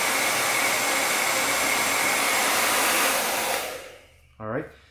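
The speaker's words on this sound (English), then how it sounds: "If I don't touch this, it's blowing cold air." ghd Air professional hair dryer blowing on its cold setting, a steady loud whooshing roar that winds down as it is switched off, followed by a brief faint knock.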